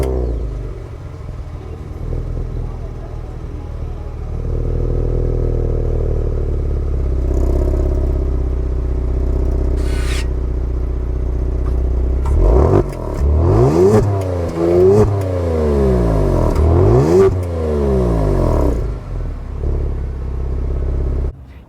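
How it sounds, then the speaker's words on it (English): A 2023 Kia Stinger GT2 with a quad-tip exhaust idles with a steady low rumble, then is revved hard several times near the end, each blip rising and falling sharply. "Let's take a listen to that exhaust."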